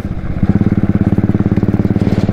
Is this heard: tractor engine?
yes